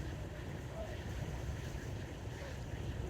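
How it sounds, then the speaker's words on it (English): A sudden gust of wind buffets the microphone at the shore while shore fishing on Anglesey, a loud steady roaring rumble with waves washing in the background. "There's a sudden gust came up there now"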